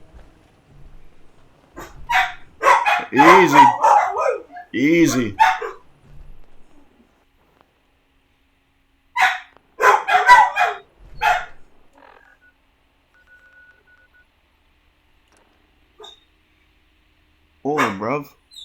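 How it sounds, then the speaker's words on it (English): Dogs bark in a Fallout video game, in two loud bursts of repeated barks with a pause between them and a shorter burst near the end, while a character speaks calmly over the barking. "Dogs are barking at something."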